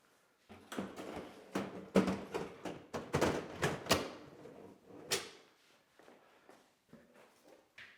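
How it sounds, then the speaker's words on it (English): Wooden drawers are slid and pushed back into a cabinet, giving a series of close knocks, thumps and scraping bumps that fade to sparse taps. "we're going to get those drawers back in and show you what it looks like, all finished"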